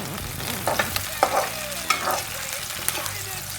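Chopped onions fry and sizzle steadily in a hot pan for an Indian eggplant curry, with a few louder scrapes and stirs of a utensil breaking through the continuous crackle.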